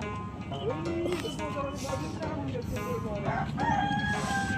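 Bangkok classic roosters crow at a poultry market, several drawn-out calls rising over a busy background with clucking and voices talking nearby.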